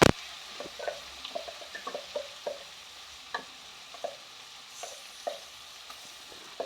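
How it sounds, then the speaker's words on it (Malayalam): Chicken curry frying in a pan as a ground onion-tomato paste is stirred in, giving soft scraping stirs at an uneven rhythm over a faint steady sizzle, close and fairly quiet, with no talking. "അരപ്പെല്ലാം ഇതിലേക്ക് ഇട്ട് കൊടുത്തിട്ടുണ്ട് ഇനി നല്ലതായിട്ടൊന്ന് മിക്സ് ചെയ്ത് എടുക്കാം"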